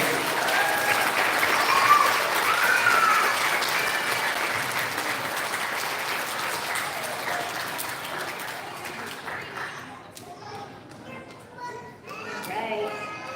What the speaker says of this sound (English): Can we have a huge round of applause for our citizenship winners?